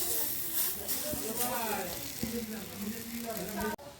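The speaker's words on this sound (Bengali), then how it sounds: "দেখুন বন্ধুরা, আমার কাবাবগুলো ভাজা হয়ে গেছে।" Prawn kebabs frying in a pan, a steady sizzle and hiss running under a voice and other talk, with a few soft clinks near the end.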